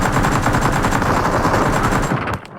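Sustained rapid automatic P90 fire in PUBG Mobile, a loud dense stream of shots lasting over two seconds before cutting off abruptly.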